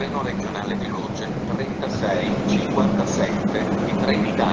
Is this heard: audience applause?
no